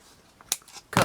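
Scissors snip through paper for a beginner's scrapbook or journal, two or three quick, crisp cuts close by, with a short pause between them.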